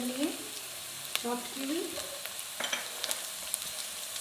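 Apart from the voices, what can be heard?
green chillies frying with onion and garlic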